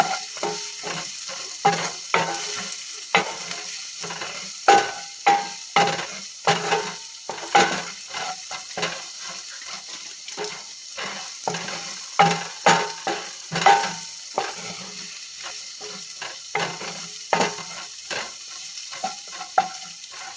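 Ground meat frying in a pan with vegetables, a steady loud sizzle broken by regular scraping stirs of a utensil against the pan, close and without talk.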